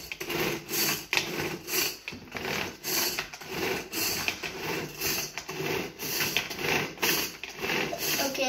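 A blender grinds a strawberry smoothie with a continuous, pulsing whir that rises and dips in a steady rhythm, close by and fairly loud.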